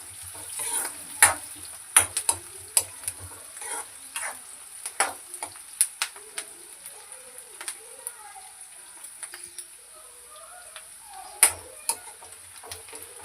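Onions and green chillies fry in a pan with a soft, constant sizzle, while a spoon scrapes and clicks against the pan in irregular strokes. The stirring is close and clear.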